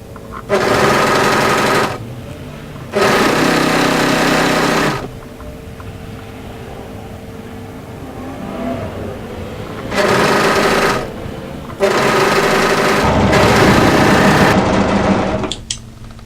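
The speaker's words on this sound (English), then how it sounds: "Match the notch and then overlock all the way down to the hem." An overlocker runs loud and close in several bursts of one to three seconds, sewing the side seam of drop-crotch joggers down to the hem, with a low machine hum continuing between the bursts.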